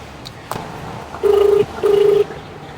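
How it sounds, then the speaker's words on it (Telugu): During a phone call, a telephone ringback tone sounds twice. Each ring is a steady electronic burst about a third of a second long, followed by a pause, and a soft tap comes before the rings. "యువకు కాల్ చేద్దాం."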